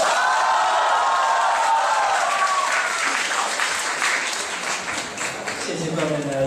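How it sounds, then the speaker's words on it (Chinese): Sustained audience applause at a Chinese crosstalk comedy show fills the hall, steady and dense with scattered cheers, easing slightly before a performer's voice begins near the end. "谢谢各位的热情掌声。"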